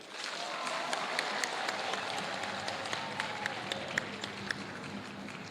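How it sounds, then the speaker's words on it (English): Applause from a graduation ceremony audience at Kampala University, a broad wash of distant crowd clapping and cheering with scattered sharper claps, steady throughout. "Can we all stand up and give her a standing ovation with a thunderous, loud applause?"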